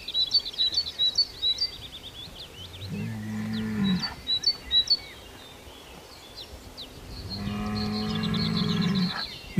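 Cattle bellowing in the wild during the summer rut, as bulls join the herds of cows. Two deep, drawn-out moos come several seconds apart, with birds chirping in the background.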